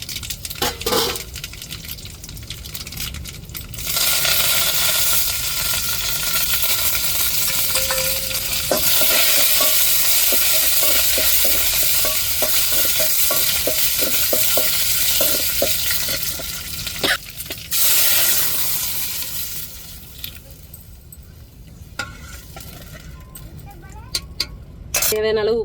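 Dried red chillies frying in hot oil in a pan while tempering for a curd rasam, with steady sizzling, clinks and stirring scrapes that run through most of the clip and fade toward the end.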